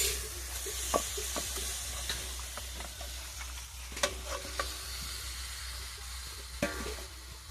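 Chicken pieces sizzling in a pot for biryani, a steady hiss broken by sharp clinks and scrapes of a spoon against the metal at irregular intervals.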